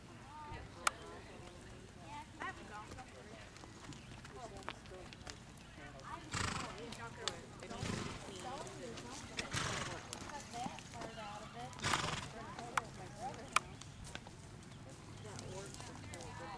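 Horse ridden bareback in a pleasure class, hooves clip-clopping with an occasional neigh, fairly faint and distant under ambient noise with voices in the background.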